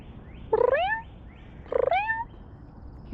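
A cat gives two distinct meows about a second apart, close and clear over a quiet background.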